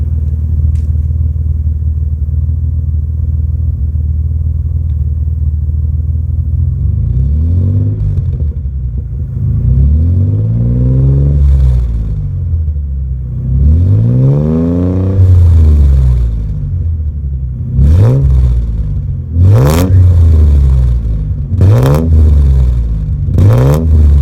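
A car engine revs up repeatedly, rising and falling in pitch several times over a steady idle rumble, with sharper bursts toward the end.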